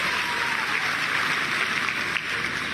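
A crowd gives the chief minister thunderous applause at a tablet and smartphone distribution event for students in Ayodhya, a dense, steady roar of clapping that holds evenly throughout.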